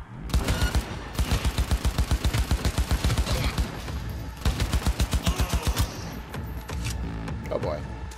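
Rapid automatic gunfire from a gun in Cyberpunk 2077, loud bursts of evenly spaced shots in two long volleys with a brief pause between, then a dense steady rumble of combat.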